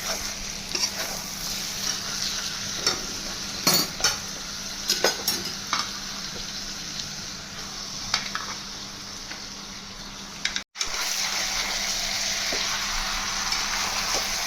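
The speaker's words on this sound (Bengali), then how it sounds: "কাঁচা লঙ্কা দিয়ে কিছুক্ষণ কষে এবারে মাংসগুলো আমি দিয়ে দেবো।" Chicken pieces sauté in a spice paste with green chillies for a desi chicken curry, a loud steady sizzle broken by repeated scraping stirs and a few clinks of a spoon against the pan.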